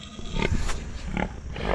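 A farm pig gives a few low, close grunts in short irregular bursts, fairly clear and not covered by talk.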